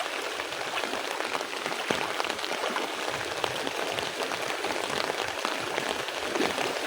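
Heavy monsoon rain pours steadily during flooding, a dense, continuous hiss of drops striking surfaces, loud and unbroken for several seconds with no speech.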